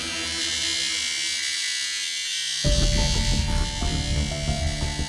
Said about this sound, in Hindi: ये आपका एसी इतना आवाज करता है?